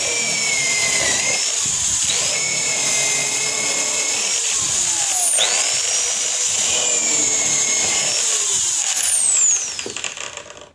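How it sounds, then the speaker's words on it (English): A low-RPM power drill bores into wood on a homemade slot mortise jig, a loud continuous whine with rising and falling pitch sweeps as it moves through the cut, then winds down near the end. "this drill is a lower RPM drill"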